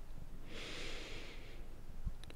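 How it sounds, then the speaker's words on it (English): Slow, steady breath during a guided yoga breathing exercise, one long soft airy inhale or exhale heard alone, fairly faint, with a brief click near the end. "take a few slow and steady breaths"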